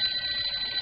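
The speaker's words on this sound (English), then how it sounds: "It was almost supper time when the office phone rang." An office telephone rings in a radio drama with a continuous bright electric bell trill that stays steady and close for a short burst.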